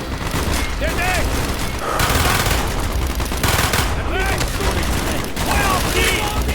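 Rapid gunfire and explosions fill a Call of Duty: Black Ops campaign battle, dense and continuous, with shouting soldiers' voices over the shooting.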